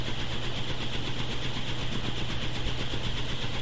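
A homemade airplane-style fan runs at full speed, a loud, steady droning whir with a constant low hum and broad airy rush throughout.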